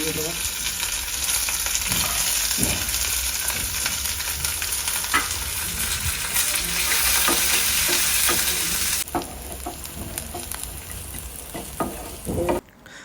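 Mustard seeds and green chili sizzling in hot oil for a tempering, a loud, close, continuous hiss with scattered pops that drops somewhat in level near the end.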